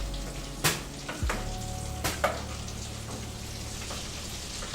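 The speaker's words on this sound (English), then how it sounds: "I'm basting the potato here." Potato papa rellenas frying in hot oil while being basted, giving a steady close sizzle with a few sharp spatter pops and clinks.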